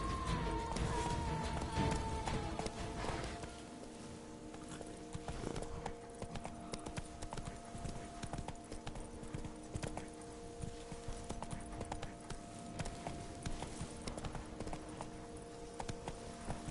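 Roach, the horse in The Witcher 3, gallops with a fast, rhythmic clip-clop of hooves running steadily from start to finish under faint game ambience.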